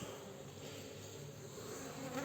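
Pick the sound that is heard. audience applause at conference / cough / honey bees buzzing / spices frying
honey bees buzzing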